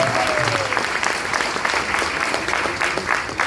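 A crowd applauding, dense continuous clapping that holds steady throughout.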